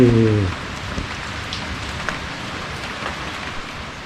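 Steady morning rain falls continuously at a beach campsite, a dense hiss of drops pattering on surfaces, fairly close and even throughout.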